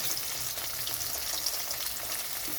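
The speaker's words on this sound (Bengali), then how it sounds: "ভোলা মাছটা ভাজার সময় তেলটা খুব ভালো করে গরম করে নিতে হবে" Bhola fish sizzles steadily in well-heated oil in a wok, a dense continuous crackle that stays loud and even throughout with no voices.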